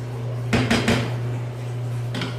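A spoon stirs a jiló mixture in a cooking pot, producing a few clattering scrapes and knocks against the pot over a steady low hum.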